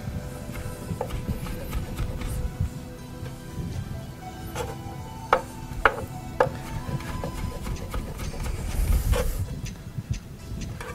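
A kitchen knife slices courgettes into very fine julienne strips on a board, a run of light, close, irregular clicking taps over a low steady background hum, with no talking.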